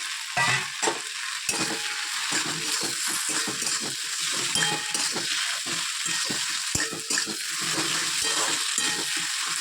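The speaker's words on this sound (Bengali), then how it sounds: "বেগুনটা এখন দিয়ে দেবো" Cut eggplant frying in a pan, a steady bright sizzle with frequent clattering stirs and light metallic clinks of the spatula, close up and continuous.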